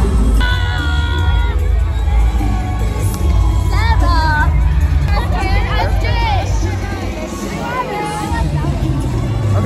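A large crowd fills a cheerleading competition arena with loud, continuous babble, shouts and cheering, close and dense throughout, with no single voice standing out.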